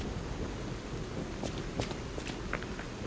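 Rainy thunderstorm in the video game Lies of P: dense, steady rain hiss fills the scene, with a few brief sharper crackles and drops breaking through.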